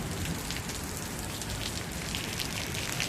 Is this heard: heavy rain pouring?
yes